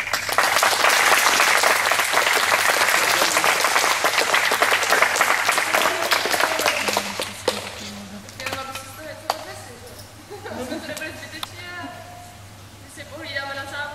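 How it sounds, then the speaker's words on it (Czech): An indoor audience at a training session applauds the trainers with sustained, dense clapping that gradually thins out and tapers, while a voice speaks over the end. "jim můžeme potleskem poděkovat za to, jak se vám tady věnovali"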